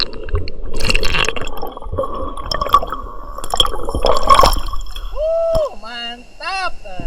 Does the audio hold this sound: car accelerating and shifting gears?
no